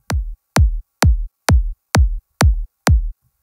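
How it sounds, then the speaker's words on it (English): Punch layer of a drop kick drum from a sample, struck seven times at an even, steady pace, each a sharp, loud, close thump with a quick decay and silence between hits. "So the punch sounds like this"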